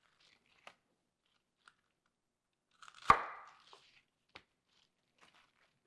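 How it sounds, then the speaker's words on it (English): Knife cutting baby bok choy open on a board: a few sparse light taps, then one crisp crunching slice, followed by a couple more soft cuts in a quiet room. "It should be enough time for you to wash the baby bok choy and cut them open."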